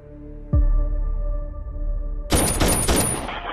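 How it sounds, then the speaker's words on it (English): A deep boom hits early over a sustained low drone, then a dense burst of sharp, crackling gunfire erupts and rattles on loudly to the end. "I'm hearing all kinds of gunshots down the street from my house."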